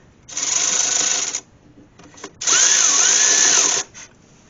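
A power tool drives a bolt on the rear brake assembly of a Dodge Ram 2500/3500 dually, giving two loud, close, whining bursts, a short one, then a pause and a longer one.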